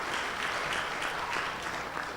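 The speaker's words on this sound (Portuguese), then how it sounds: "palmas para o Rodrigo, que é o nosso grande roteirista da cidade." Audience applause at an opening keynote talk, a steady burst of clapping from a crowd that holds at an even level throughout with no voices over it.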